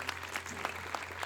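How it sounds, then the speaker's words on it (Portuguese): A church congregation applauds, a dense steady patter of many hands clapping against a low hum, brief and moderately loud with no voices. "A gente pode dar um forte aplauso ao Senhor?"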